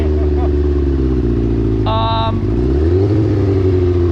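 Car engine breaking up under heavy throttle at high speed, around 100 mph, a loud sustained droning roar with a wavering pitch and a brief higher tonal whine in the middle.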